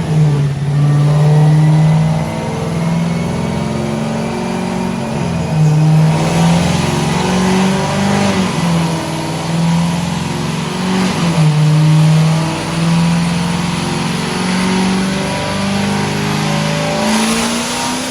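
A modified 2019 Corvette ZR1 engine pulls hard through a dyno power run, a loud, sustained supercharged roar that climbs and steps through the revs for eighteen seconds with no talking over it.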